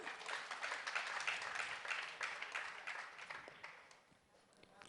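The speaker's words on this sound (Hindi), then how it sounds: "ये ताली क्यों बजाई?" An audience claps steadily at a religious discourse, a dense, moderately distant patter of many hands that holds for several seconds and then thins out and fades toward the end.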